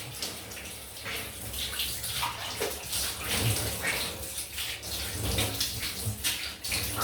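Water running steadily into a bath during a rinse-off after a shave, a continuous close splashing rush with small fluctuations in intensity.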